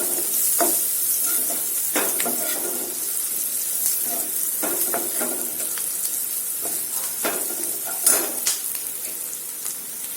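Onions with turmeric and asafoetida sautéing in hot oil in a pan for an okra (bhendi) dish, a steady close sizzle with repeated scraping stirs of a spatula against the pan throughout.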